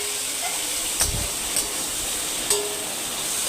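Soybean chunks fry in a pan for chana dal with a steady, hissing sizzle, joined by a few brief knocks of the stirring spoon.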